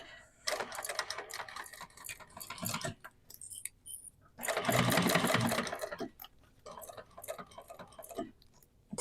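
A sewing machine stitches fabric for a duffel bag in rapid whirring bursts, stopping and starting several times, with a longer close run in the middle and quiet pauses between.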